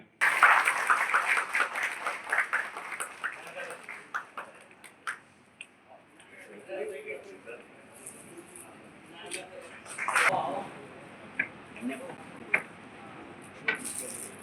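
An audience claps after a ceremonial lamp lighting at a community gathering, loud applause at first that fades into scattered claps with a later burst, mixed with a speaker's voice over the room.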